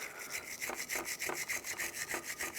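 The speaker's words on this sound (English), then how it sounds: "with a wire brush I want to clean underneath them" A wire brush scrubs rust from beneath the anti-rattle clip area of front brake hardware on a 2002-06 Toyota Camry, making quick, even back-and-forth scratchy strokes, close and fairly quiet, with no talking.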